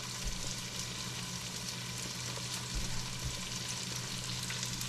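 Gilbaka fish stew with potatoes simmers in a pot over low to medium heat, giving a soft, even bubbling and gentle sizzle that stays steady and fairly faint throughout.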